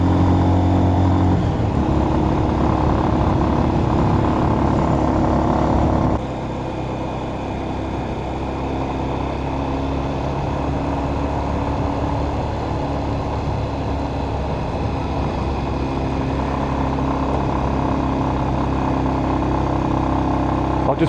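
A 125cc motorcycle with engine damage and a holed exhaust drones continuously and loudly while riding, with a beefy, rough tone and a slight drop in pitch partway through.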